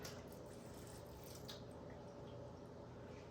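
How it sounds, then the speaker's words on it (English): Faint, steady trickle of water being poured onto a potted orchid, a soft continuous splashing with a few small drips, quiet and close. "So I'm gonna lightly pour it into there."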